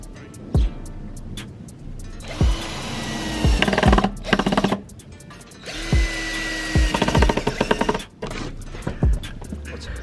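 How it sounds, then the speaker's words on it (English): A power drill driving screws into wood while building a homemade wooden squat rack: several short bursts of whirring motor and grinding bites, separated by brief pauses and clicks, close and loud. "we'll drill it into there"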